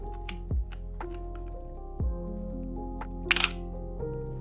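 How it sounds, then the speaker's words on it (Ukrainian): Shutter of a Pentax 67 II medium-format camera with an SMC 75mm f/4.5 lens firing, heavy low mechanical thumps followed by a brief sharp clatter, close up over a faint steady background hum. "А ще мені подобається, як ця камера гримить, коли робиш кадр."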